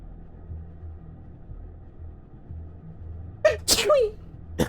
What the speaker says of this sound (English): pardon, I'm gonna sneeze.